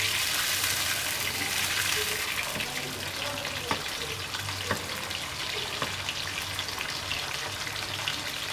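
Fish sizzles and spatters in a hot pan of oil for a fish curry, a steady crackling hiss with a few sharper pops, fairly close and loud.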